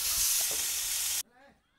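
Chopped vegetables for a restaurant-style veg Manchurian gravy stir-frying in a hot pan give a loud, steady sizzle and hiss that stops abruptly partway through. A faint murmur follows in near quiet.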